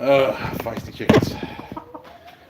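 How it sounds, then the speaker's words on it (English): Feisty chickens in a blacksmithing workshop, clucking and squawking close by in short, agitated bursts, with a person's voice mixed in. "Feisty chickens."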